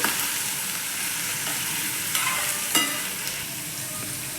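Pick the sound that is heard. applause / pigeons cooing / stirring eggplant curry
stirring eggplant curry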